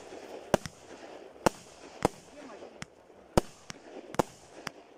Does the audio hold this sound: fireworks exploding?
yes